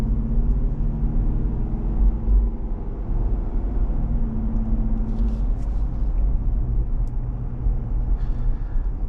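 A 2026 Ram 1500 Laramie pickup with the 5.7L Hemi V8 heard from inside while driving, a steady deep engine rumble with road noise throughout.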